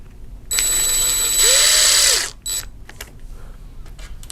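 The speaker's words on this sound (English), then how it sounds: "screw gun going back into plastic" A screw gun drives screws into plastic on a UTB18 Capra mini rock crawler prototype. It makes one loud, whining burst that rises in pitch, then a short second pulse, then faint clicks and handling.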